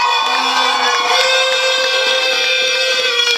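A crowd at a beauty pageant cheers and shouts continuously, a loud, dense roar of many voices with occasional whoops and whistles.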